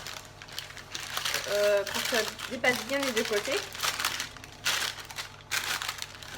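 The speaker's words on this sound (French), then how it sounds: "Donc on prend un papier sulfurisé" Parchment baking paper crinkles and rustles as it is pressed into a loaf cake mould, in close bursts of crackling under a person talking.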